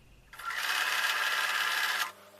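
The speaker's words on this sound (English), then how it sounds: "I'm going to go over to the sewing machine and sew all these pieces together with a 1/4 inch seam" A sewing machine runs in one continuous burst of about two seconds, stitching quilt block pieces together with a quarter-inch seam, close and steady with no talk.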